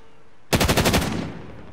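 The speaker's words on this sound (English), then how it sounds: "Who are you shooting at?" Automatic gunfire from the Call of Duty: Modern Warfare video game rips out as a short, loud burst of rapid shots, then trails off into a fading echo.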